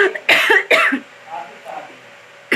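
A woman gives two sharp, close coughs in quick succession, followed by a few faint breathy sounds.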